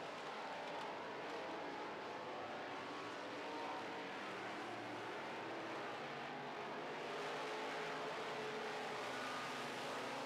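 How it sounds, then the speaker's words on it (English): Faint, distant drone of Midwest Modified race cars circling a dirt oval during a feature race, engines rising and falling in a continuous blended roar. "Great speed on the straightaways, but the 44 of Hunter cornering much better"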